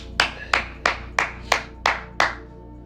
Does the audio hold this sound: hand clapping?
yes